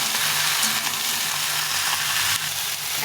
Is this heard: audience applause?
no